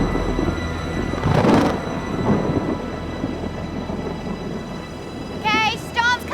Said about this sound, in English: Okay, storm's coming.